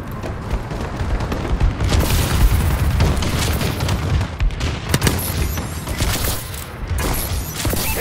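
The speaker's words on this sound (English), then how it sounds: "Friendly bombing run clearing the way." Bombing run explosions in Call of Duty: Advanced Warfare multiplayer: loud, continuous booms and rattling gunfire pile up into a dense barrage, with sharper blasts punching through near the middle.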